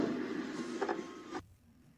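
A Singer sewing machine runs briefly, a quick close mechanical whir of stitching for about a second and a half before it stops and leaves near quiet.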